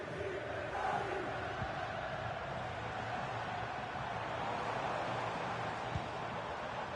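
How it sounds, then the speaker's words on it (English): A large stadium crowd in the FC 25 football game swells with a steady, distant roar as the home side builds an attack, an even wash of noise with no single voices standing out. "The crowd urging him to shoot"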